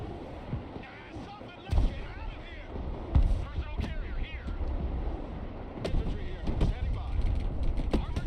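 Mortar fire in Broken Arrow gives repeated dull thumps and booms over a constant battlefield rumble, scattered through a busy mix with some radio-style speech.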